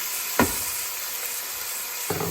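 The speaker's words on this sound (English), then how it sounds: "I'm just going to get that to fry up a little bit with the onion and the garlic." Sliced beef frying with onion and garlic for a beef and bok choy soup, a steady hissing sizzle with two brief scraping stirs in the pan, no voices.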